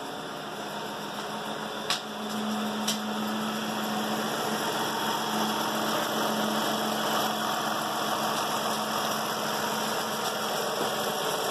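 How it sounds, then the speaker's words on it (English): A junk car engine idles steadily and close by with a low, even hum, broken by a couple of brief clicks early on, and no voices. "Sits there and idles nice."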